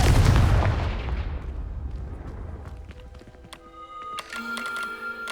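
A loud blasting-spell explosion in the Hogwarts Legacy video game opens with a heavy boom, then decays into a long rumbling tail. Faint tinkling and ringing debris sounds rise near the end.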